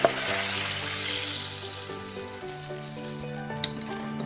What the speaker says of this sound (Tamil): இப்போ நம்ம தாளிச்சு வச்சிருந்ததை கொட்டிக்கலாம்.